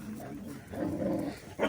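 A Cane Corso indoors giving low barks and growly vocalizations, a short close burst mixed with background noise.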